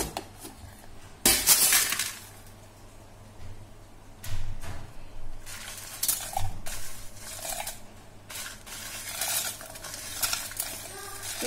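Chopped onion pieces and tempering with spices are tipped into a mixer grinder jar, producing bursts of rattling, scraping and clinking against the jar and spoon, with quiet pauses between the bursts.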